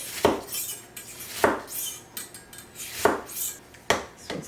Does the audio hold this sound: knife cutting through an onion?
yes